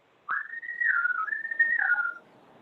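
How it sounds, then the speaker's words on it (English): Someone whistles a short wavering tune in a meeting room, a single clear melodic phrase of about two seconds with sliding pitch, fairly faint and heard alone without talk. "I can't see who's whistling"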